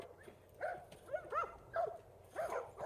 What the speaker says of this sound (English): You got a healthy puppy now.